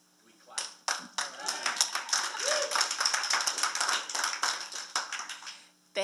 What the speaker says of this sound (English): We clap.